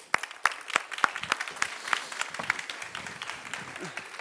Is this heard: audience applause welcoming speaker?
yes